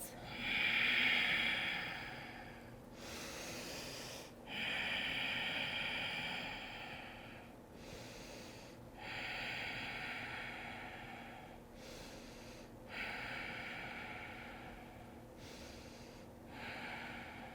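Slow, deep nasal breaths during a yoga flow held in downward-facing dog, close and audible, each long airy inhale and exhale repeating in a steady rhythm about every four seconds.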